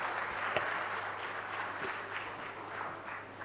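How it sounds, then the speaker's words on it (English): Steady applause from an academic conference audience, a dense even wash of clapping lasting a few seconds at moderate volume. "a big round of applause for her"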